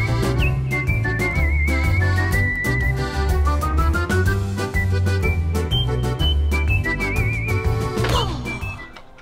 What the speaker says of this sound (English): It's so catchy, I'm gonna whistle along.